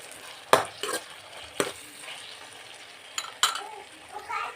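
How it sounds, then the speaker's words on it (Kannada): Tomatoes frying with boiled potatoes in a pan, a soft sizzle punctuated by several sharp spoon-on-pan knocks and scrapes in irregular bursts, close by and quiet between the hits. "ಈಗ ಟೊಮೆಟೊ ಹಣ್ಣು ಹಾಕ್ಕೊತಾ ಇದ್ದೀನಿ. ನೋಡಿ, ಟೊಮೆಟೊ ಹಣ್ಣು ಹಾಕ್ಕೊತಾ ಇದ್ದೀನಿ. ಇದು ಸ್ವಲ್ಪ ಫ್ರೈ ಆಗಲಿ."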